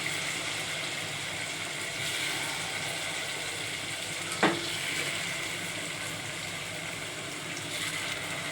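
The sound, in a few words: onion and cumin frying in a pan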